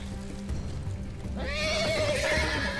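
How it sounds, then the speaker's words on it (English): A horse in The Walking Dead video game whinnies loudly, rising then trailing off, over a background of hoofbeats as it runs wild. "Horse is running wild."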